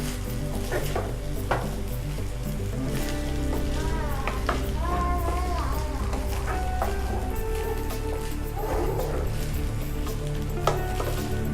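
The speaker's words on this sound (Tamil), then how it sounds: "நம்ம வடித்து வச்சுருக்க ரைஸை உள்ளே சேர்த்துக்கலாம். ரைஸ் சேர்த்தோன்னே ஒரு பரட்டி விட்டுக்கலாம்." Cooked rice is stir-fried in a hot pan for egg fried rice, with a continuous sizzle and frying hiss under repeated scraping and clinking of a utensil against the pan, close and steady throughout.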